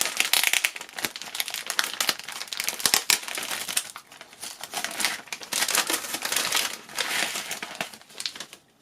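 Stag-head-patterned wrapping paper crinkles and tears loudly at close range as a Barbie doll outfit is unwrapped, with continuous bursts of rustling and crumpling and no talk.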